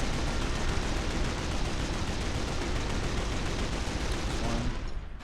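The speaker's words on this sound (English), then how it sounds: "there's planes coming through and you have to shoot them with the AA gun" Anti-aircraft gun firing at passing planes in the game The Outfit, a dense, unbroken roar of rapid gunfire held at high loudness throughout before cutting off at the end.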